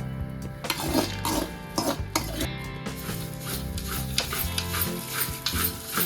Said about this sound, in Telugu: ఇప్పుడు మళ్ళీ ఆయిల్లో వేయించుకొని అల్లు వేసి కలిపేసాలి